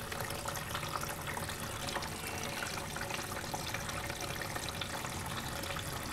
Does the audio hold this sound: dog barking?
no